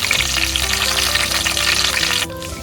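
Mustard seeds pop and splutter in hot oil for a tempering, with curry leaves added in, giving a loud, dense, steady sizzle that drops off sharply near the end. No one speaks.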